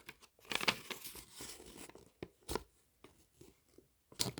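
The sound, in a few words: paper being folded for origami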